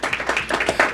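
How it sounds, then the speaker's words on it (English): A short burst of dense clapping from a crowd at a veterans outreach forum rises in appreciation of honored veterans. "Let's give them a round of applause."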